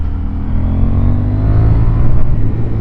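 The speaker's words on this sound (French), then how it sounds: "qu'est-ce que c'est bon le bicylindre" A KTM 890 Duke twin-cylinder motorcycle engine revs hard and steadily under way, a loud close growl that rises slightly in pitch over a few seconds with no talking.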